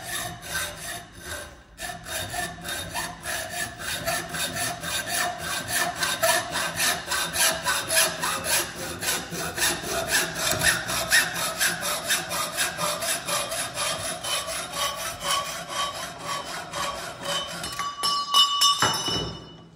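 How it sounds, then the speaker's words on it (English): A hacksaw cuts through copper pipe in close, steady back-and-forth strokes with a rhythmic rasp and faint metallic ringing, ending with a few lighter strokes. "When cutting pipe with a hacksaw, you get burrs on the inside and also on the outside."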